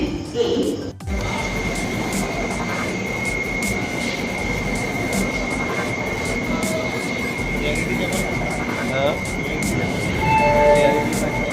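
A train rumbles steadily close by, with a constant tonal hum and occasional faint wheel squeals toward the end.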